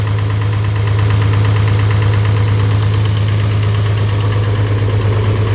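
An International Harvester 806 tractor engine runs at idle nearby, loud and constant with a deep steady drone and a rapid knocking pulse, no voices over it.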